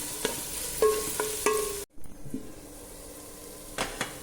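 Chopped onions frying in a pan with ginger and green chili, a soft steady sizzle broken by several sharp clinks and scrapes of a spoon stirring against the pan, close and moderately loud with a brief dropout midway.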